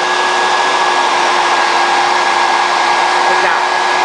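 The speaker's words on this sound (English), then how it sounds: "I'm literally putting the brush in, letting the blow dryer hit it, and slowly dragging it through." Blow dryer running steadily on hair while a brush is dragged through it, a loud, close, unbroken whirring hum with no talk.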